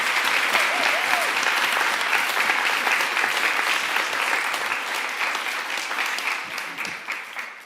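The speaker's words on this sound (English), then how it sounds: "Now you can all clap." Sustained applause from a large audience at the closing of the Design for Planet Festival 2024, dense and steady throughout, easing slightly toward the end.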